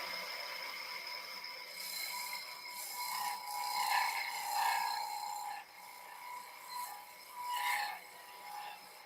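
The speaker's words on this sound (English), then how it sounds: "So let's just scrape that a little bit just to see." A turning tool scrapes a spinning maple wood box on a lathe, a close, rasping hiss that rises and falls in several short passes with the motor whine underneath.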